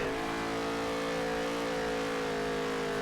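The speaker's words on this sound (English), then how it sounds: "You can hear that engine bogging down, though." A race car engine in the NASCAR Heat 3 video game drones steadily at a sustained pitch, bogging down without climbing, loud and continuous with no talk over it.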